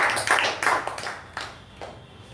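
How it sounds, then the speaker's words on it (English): Brief, scattered hand clapping from a small meeting audience, a few irregular claps rising and fading over about two seconds at moderate distance. "A big round of applause for President Shivaprasad."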